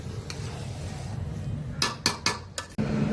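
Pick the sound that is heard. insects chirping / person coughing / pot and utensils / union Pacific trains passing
pot and utensils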